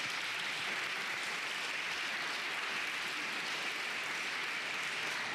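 Audience applauding at a political talk, a sustained, even wall of clapping that stays constant and fairly loud without any voices breaking through.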